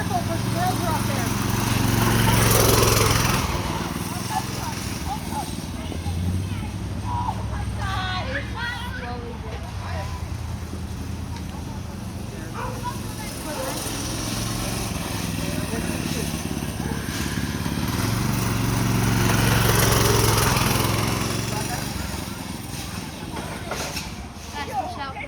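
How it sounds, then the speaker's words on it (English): A small mini bike engine drones steadily outdoors, swelling louder twice as the bike passes near, with people chatting in the background. "Watch out for Boston's on the mini bike"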